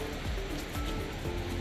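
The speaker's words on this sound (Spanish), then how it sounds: "Está bien caudaloso el río." A swollen river in Quezaltepeque, El Salvador, running high after Hurricane Julia, gives a steady, loud, broadband rush of churning water that stays constant throughout with no talking.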